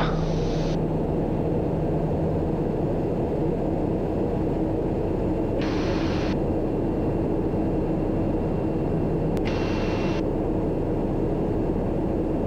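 TBM 960 turboprop aircraft engine in flight, a steady loud broadband drone with constant hum, heard continuously from inside the cabin with brief faint higher tones.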